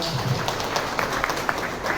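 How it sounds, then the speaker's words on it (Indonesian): Applause in a city council plenary session in Kupang, Indonesia: a dense, continuous patter of many people clapping in a large hall, fairly loud throughout the short stretch. "Kita berikan tepuk tangan"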